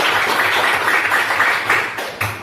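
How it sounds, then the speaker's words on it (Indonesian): Classroom applause for a student, a dense, steady patter of many hands clapping together at moderate loudness that swells slightly in places and carries through without any talking. "Aplaus dulu untuk Ananda Sarul"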